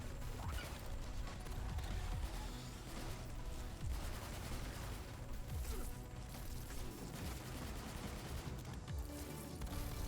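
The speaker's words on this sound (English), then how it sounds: "Suppressing fire." Video game gunfire heard as a dense, continuous wash of distant shots and crashes throughout, steady and moderately loud with no clear individual bursts.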